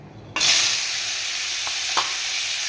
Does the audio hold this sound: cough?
no